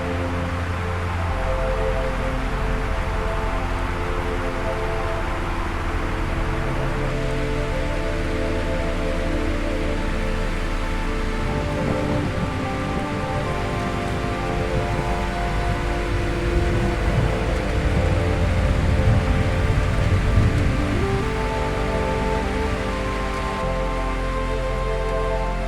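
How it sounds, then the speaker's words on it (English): Monsoon rain falling in Assam: a dense, steady wash of rain pouring without pause, full and close, with a constant patter and hiss that swells slightly partway through. "announce the arrival of the first monsoon rain"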